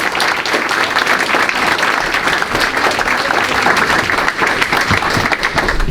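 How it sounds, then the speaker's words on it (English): An audience at a public meeting in Bethel African Methodist Episcopal Church applauds museum staff with sustained, dense clapping that stays loud and steady from start to finish. "please stand and let's give them a round of applause"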